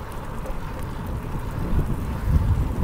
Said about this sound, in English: So as you can see, it's a pretty windy day.